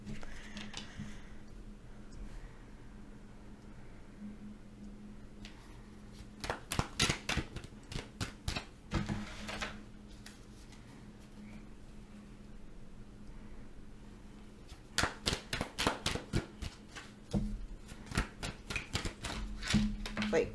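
A deck of tarot cards is shuffled in two quick bursts of rapid flicking, close and crisp. Quiet talk runs between the bursts.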